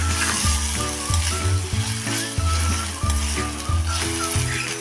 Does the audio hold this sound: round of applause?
no